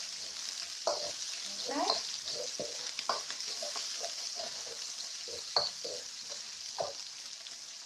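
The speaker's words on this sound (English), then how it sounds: "So those you want to fry for the fragrance to come out." Garlic, ginger and spring onion fry in a wok, a faint steady sizzle under intermittent scrapes and clanks of a spatula stirring, close and fairly quiet, with one brief spoken word.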